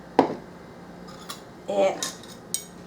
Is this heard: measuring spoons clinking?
yes